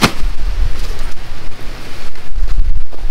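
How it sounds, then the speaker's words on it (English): Strong gusting wind blows outdoors across the microphone, about 10-15 mph, roaring in uneven surges with low buffeting rumble and rustle, loud and continuous with no one speaking. "And we do have a little bit of wind,"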